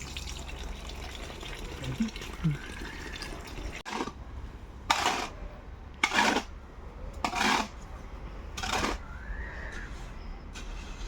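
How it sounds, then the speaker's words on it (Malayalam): Water poured by hand into a homemade fish tank in several separate splashing bursts, about four distinct pours spaced a second or so apart over a low background hum. "വെള്ളം എടുത്തിട്ട് നമ്മൾ ഒഴിക്കണതാണ്"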